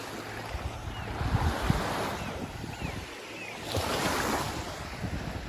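Ocean waves wash onto the beach at Pentwater with steady wind noise over the surf, a continuous near wash that swells slightly louder toward the end, with faint high cries in the background.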